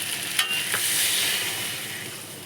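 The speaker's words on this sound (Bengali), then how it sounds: "আমি এখন দিয়ে দেবো জল" Water goes into a sizzling pan of fried curry masala, giving a loud hissing rush that swells and then slowly settles, with a couple of quick spatula taps early on and no speech.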